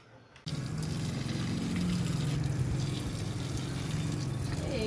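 Water gushes from a hose pipe onto garden plants in summer heat, a steady close splashing rush that starts abruptly after a brief quiet moment and runs on without speech.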